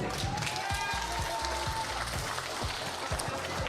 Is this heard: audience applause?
yes